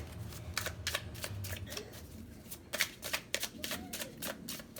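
A deck of cards is shuffled for a pick-a-card reading, giving repeated close, crisp riffles and flicks in an uneven rhythm with no talk.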